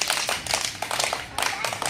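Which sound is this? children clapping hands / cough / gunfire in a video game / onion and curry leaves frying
children clapping hands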